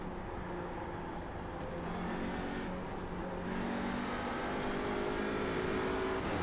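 Engine of a TCR touring car in the iRacing sim racing game, at Sonoma, holds a loud continuous high-revving drone with shifting pitch, full-throttle and steady throughout.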